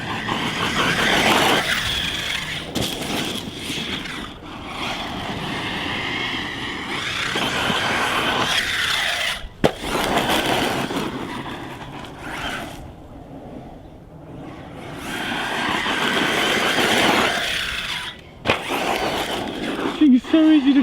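An ARRMA Talion 6S RC car, a 2018 model running on 4S with a 16T pinion, whines in loud, repeated bursts as it accelerates and drives off. Someone talks over much of the run.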